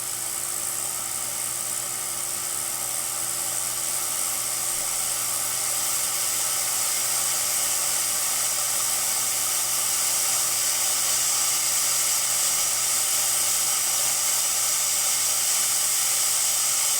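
A repaired Breville Barista Express espresso machine runs steadily, giving off a continuous hiss and hum with a low motor drone throughout, with no talking.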